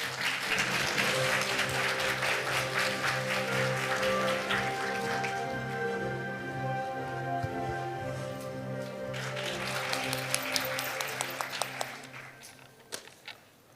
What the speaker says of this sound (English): Please welcome him with a big round of applause once again to the stage.